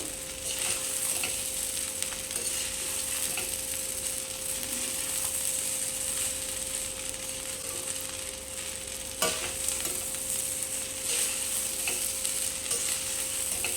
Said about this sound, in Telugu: ఇలా మొత్తం కలిపేటట్టు ఒకసారి బాగా కలుపుకోవాలి